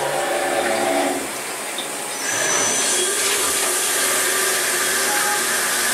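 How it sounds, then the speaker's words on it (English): A milling machine with a 3/16 inch end mill cuts holes, giving a loud, close hissing whir that shifts in pitch partway through, with no voices. "we've got a 3/16 inch end mill here. We're going to come and do the four holes and the center hole there"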